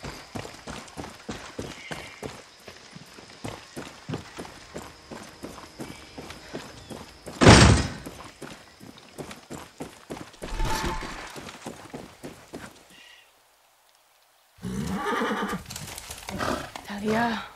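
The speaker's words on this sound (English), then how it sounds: "That's a horse and some paint." Horse hooves clop in a quick, even rhythm, with a sharp loud neigh partway through, in the Far Cry 6 video game. A voice talks over the hooves, and the sound cuts out briefly before resuming.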